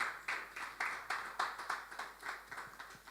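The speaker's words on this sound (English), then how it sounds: "Please clap." A church congregation clapping in steady, rhythmic unison, about three claps per second, fairly close and even in loudness throughout.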